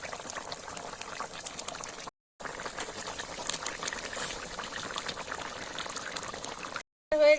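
Mustard koi fish curry bubbling uncovered in a pan, a steady close sizzling boil with soft popping, broken by two short silent gaps.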